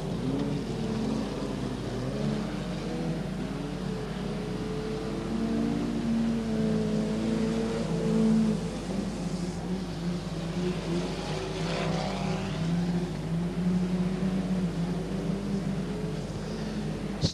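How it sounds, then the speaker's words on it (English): Race cars circulating on a track, a continuous droning engine roar with a rising and falling pass, steady and fairly loud, no voices. "Coming past us now, the number one, Phillips the leader"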